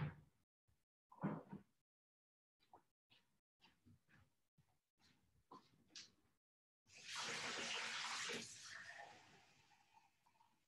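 Water runs steadily into a glass for a couple of seconds, close and clear, after a stretch of faint clinks and small handling sounds indoors.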